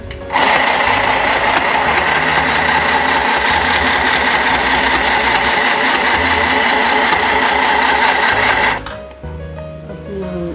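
A portable mini sewing machine stitches fabric in a loud, steady mechanical whir for about eight seconds, then stops abruptly, leaving quiet room sound.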